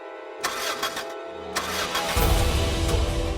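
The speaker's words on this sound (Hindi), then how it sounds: "ओह गॉड, अब ये गाड़ी स्टार्ट क्यों नहीं हो रही?" A car engine cranks repeatedly in short, uneven bursts, failing to catch, then gives way to a louder, rougher rumble toward the end, heard close with no talk.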